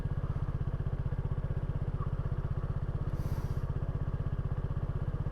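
A motorcycle engine runs steadily on the coastal road toward Gelidonya Lighthouse near Korsan Koyu, a close, even low throb like idling, with no speech.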